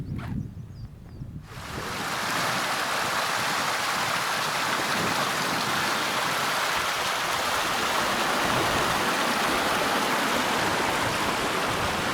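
The River Teifi flows down a valley in Wales, a steady broadband rush of running water that swells in after a quieter first second and a half, then holds constant with no speech.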